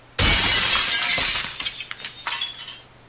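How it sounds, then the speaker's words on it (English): Glass shatters loudly close by in one sudden crash, followed by fragments tinkling and scattering for a couple of seconds, with a second smaller burst of breaking shards near the end. "Broken glass."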